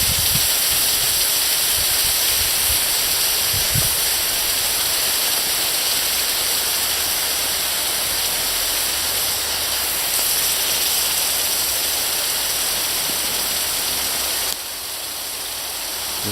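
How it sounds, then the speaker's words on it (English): Steady rushing hiss of water at a rolling boil, heated by primitive rock boiling, loud and constant throughout with no voices. "And now it's boiling."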